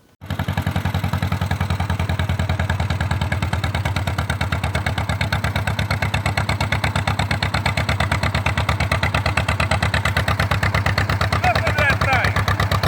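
An old John Deere 40S tractor engine chugs steadily at idle, a loud, even low thumping rhythm that runs unbroken from start to finish.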